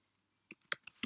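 Four short, sharp keystrokes on a computer keyboard while typing a terminal command, quiet and close with brief gaps between taps.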